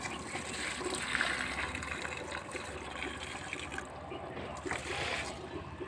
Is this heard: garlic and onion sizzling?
no